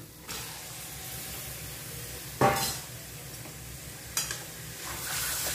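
Broiler chicken meat gets stirred into fried spice paste in a pan, a soft continuous sizzle broken by two sharp scraping knocks of the spoon against the pan, close by and without talk.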